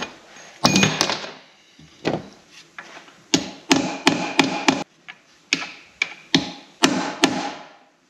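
Sharp metal taps on a part of an Amazone KG 303 rotary harrow gearbox being knocked loose during disassembly, a dozen or so close, loud strikes in uneven bursts with short pauses between them.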